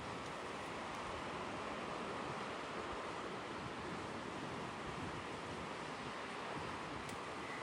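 Surf washes onto a beach in a steady, broad rush of noise that stays even throughout, distant and soft, with no voices.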